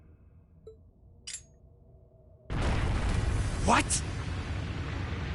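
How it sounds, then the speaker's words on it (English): A bomb detonates in the video game Trails of Cold Steel, with a sudden loud blast cutting in after a quiet stretch and a sustained roaring rumble behind it; a voice speaks briefly beforehand. "A bomb?"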